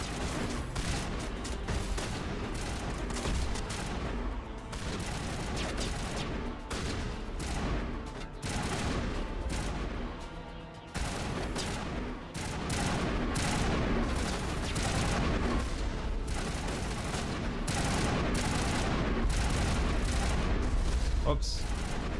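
Dense, continuous gunfire and booming blasts from a PC shooter game, Mass Effect Legendary Edition, fill the whole stretch at steady loudness, with a player's voice occasionally heard over the combat.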